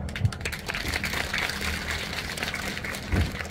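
Applause from the crowd welcoming the city council chairman at a groundbreaking ceremony for a community center, a steady wash of clapping that stays moderately loud and even throughout.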